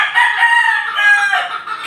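Backyard chickens with a rooster crowing loudly and close by, one long sustained call filling the moment with faint clucking beneath, no talk.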